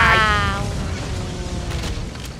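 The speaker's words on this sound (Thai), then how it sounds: "ฉันว่ามันเริ่มสะสมความร้อนอยู่ในตัวมันกำลังจะระเบิดแล้วใช่ไหมนั่นน่ะ" A creeper explosion in a 3D Minecraft-style game bursts at once into a loud boom, then decays into a rumbling, noisy tail over a couple of seconds with no voices.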